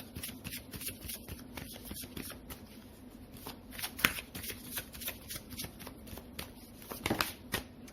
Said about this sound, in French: Je vais retirer une carte, on va regarder.